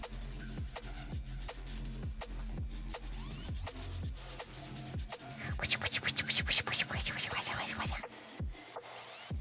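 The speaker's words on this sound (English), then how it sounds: "That's the sound of me sanding." Hand sanding of a craft horn piece, with close repeated scratchy rubbing strokes in a steady rhythm that speed up and brighten midway before slowing again.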